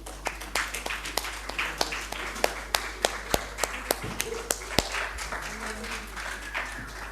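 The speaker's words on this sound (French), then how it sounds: "Accueillons-le sous vos applaudissements" Scattered, distinct hand claps from a conference audience ring out one after another at an uneven pace, fairly sparse and moderately close, over a low steady hum as a speaker is welcomed.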